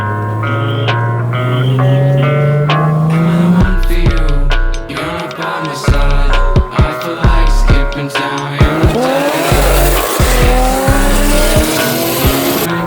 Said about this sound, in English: we took some old Mercedes to go